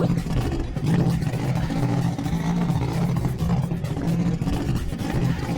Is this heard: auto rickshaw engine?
yes